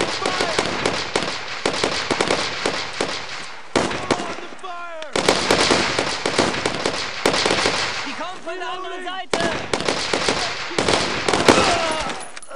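Dense bursts of rifle and machine-gun fire ring out in a World War II shooter, Brothers in Arms: Road to Hill 30, in long rattling volleys with short gaps and shouted voices in between.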